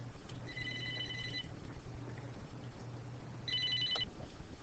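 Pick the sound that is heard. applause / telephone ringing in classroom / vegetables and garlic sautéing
telephone ringing in classroom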